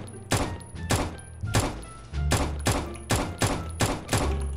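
Gunshots ring out in the GTA MTA roleplay video game: about nine sharp, booming shots in an uneven series, loud and close, some in quick pairs, with no talk over them.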